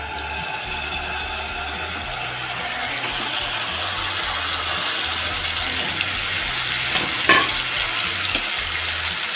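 Marinated pomfret fish hits a hot pan of golden fried garlic, giving a steady, close sizzle with a low hum underneath and a brief utensil clatter near the end.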